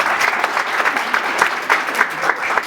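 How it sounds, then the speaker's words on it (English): An audience gives a short round of applause, a fairly close, brisk patter of many hands clapping at even strength without a break. "let's just give David and Lauren and all the peer mentors a nice another round of applause"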